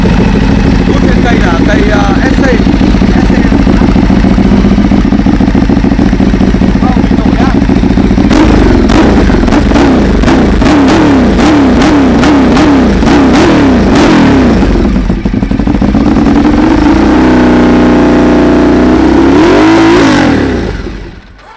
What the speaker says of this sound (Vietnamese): nghiện cái tiếng máy của Ducati